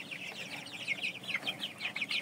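White chickens cluck in a steady run of short, bright calls close by, several birds overlapping with no voices.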